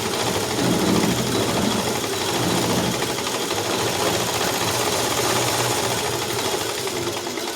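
A sewing machine runs steadily up close, top stitching piping on a dress, its needle whirring in a continuous rapid mechanical hum with no pauses.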